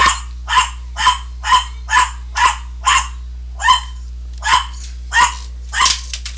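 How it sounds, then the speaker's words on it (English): Dog barking in a steady series of about a dozen sharp, close barks evenly spaced, loud and alone over a low background hum. "Don't worry about that damn dog."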